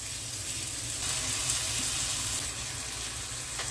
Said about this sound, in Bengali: এবারে টমেটোটা দিয়ে দিচ্ছি।